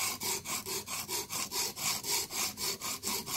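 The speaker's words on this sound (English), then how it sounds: "First thing I'm doing is I'm sharpening the heel of the knife, the ricasso" A knife heel, the ricasso, is drawn over a Blitz 360 whetstone in about a dozen even, rhythmic strokes, each a close, bright scraping rasp with brief pauses between, alone and fairly quiet.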